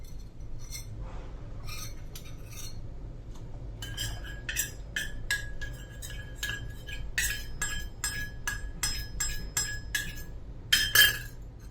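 A utensil stirs milk thickened with arrowroot powder in a pot for homemade mango ice cream, giving repeated light metallic clinks and scrapes against the pot in an irregular rhythm over a quiet kitchen background.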